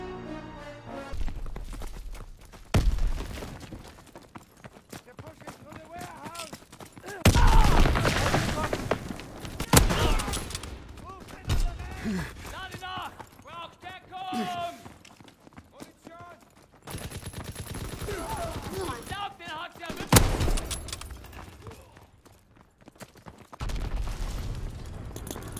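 Gunfire in a World War II sniping video game: repeated loud bursts and volleys of shots, some rapid and machine-gun-like, with dense stretches of firing separated by quieter gaps while voices speak over parts of the action.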